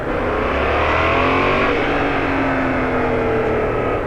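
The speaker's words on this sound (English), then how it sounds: "A lot more engine brake in there as well." A Yamaha MT-07 motorcycle engine drones under engine braking while riding, with a steady loud rumble mixed with wind rush and pitch that slowly drifts down.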